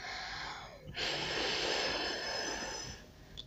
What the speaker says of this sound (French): pour faire sécher, vous pouvez le mettre sur vos doigts et souffler